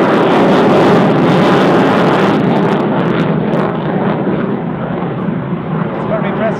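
Eurofighter Typhoon jet engines spool up at an air show, a loud, dense, steady roar that thins slightly toward the end.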